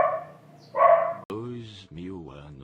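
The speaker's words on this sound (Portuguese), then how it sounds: "O cachorro ali não gosta muito de filosofia." Dog barks a few times in a room, close and fairly loud, mixed in with a person talking over and around it.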